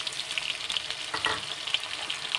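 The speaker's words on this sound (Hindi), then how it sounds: "अब हमें आलू को भी हाई फ्लेम पे ही करारा भून लेना है" Potatoes and browned parwal fry over a high flame, giving a dense, continuous sizzle with a few brief stirring scrapes, close and without any voices.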